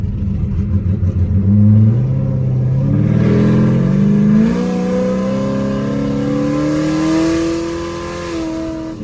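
A V8 muscle car, an SS Camaro or Shelby Mustang, revs and accelerates hard up close, its engine note climbing steadily through the gears with a loud, sustained roar and no talk.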